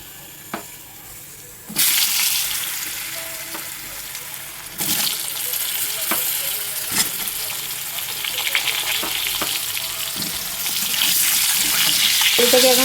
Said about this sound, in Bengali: আলুটাকে এখন ভালো করে ভেজে নেব।